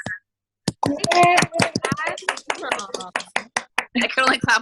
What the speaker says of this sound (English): I could only clap with one hand.